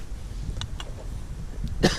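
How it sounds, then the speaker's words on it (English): A few short, dry coughs spaced out over a couple of seconds, with the last one the loudest and closest. "I keep coughing"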